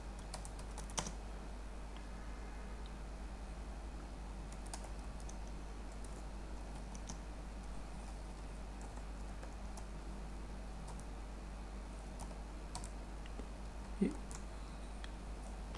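Java code being typed on a computer keyboard, steady close light key taps running throughout with a couple of sharper clicks, over a low background hum.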